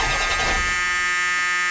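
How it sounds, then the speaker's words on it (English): A starter motor cranks the engine of a 1978 Chrysler Cordoba that has sat for 22 years, a loud steady electric whir that holds briefly without the engine catching. "Let's just test to see if she cranks."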